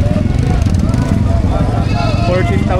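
Goats bleating at a livestock market in Padre Garcia, Batangas. Several wavering bleats rise over a dense, noisy background of people talking and crowd bustle.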